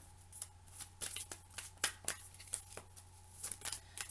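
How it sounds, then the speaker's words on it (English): Quick riffling and snapping of tarot cards being shuffled, a steady run of short crisp bursts with no talking. "let's put these cards back and continue shuffling"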